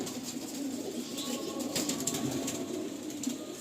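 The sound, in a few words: pigeon in a loft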